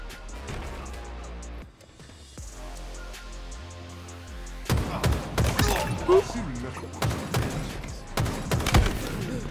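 Sharp gunshots and bursts of fire in Halo Infinite multiplayer, quiet at first and then a loud cluster of cracks and impacts in the second half over low game music, with a player talking throughout.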